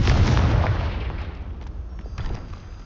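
A Confringo fire spell blast in the video game Hogwarts Legacy: a loud, deep booming burst that rumbles and slowly decays over a few seconds, with faint crackles in the tail.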